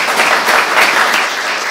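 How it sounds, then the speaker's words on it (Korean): An audience at an open concert of a Gyeongnam creative culture forum claps together for an introduced guest, a steady, loud burst of applause heard alone with no talking. "우리 박수 한번 부탁드리겠습니다"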